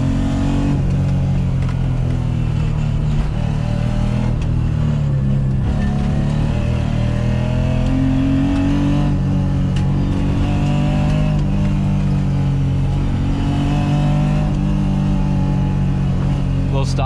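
A BMW E30 driving along a bumpy mountain road, its engine droning steadily and loudly throughout with slight rises and falls in pitch, close up inside the car.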